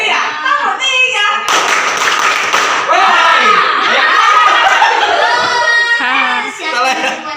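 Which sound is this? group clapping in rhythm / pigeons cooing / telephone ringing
group clapping in rhythm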